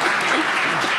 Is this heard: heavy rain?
no